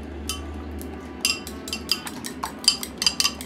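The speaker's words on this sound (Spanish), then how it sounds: "Batimos los huevos." Eggs being whisked in a bowl for a vegetarian burger, giving a run of quick, light clinks and taps against the bowl over a low steady hum.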